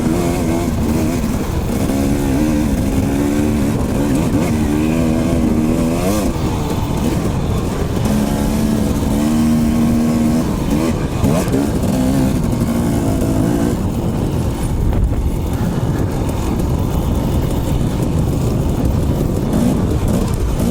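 A dirt bike engine on an Idaho mountain trail revs up and down loud and close, its buzzing note rising and falling with throttle changes, with a rougher, wind-buffeted stretch toward the end.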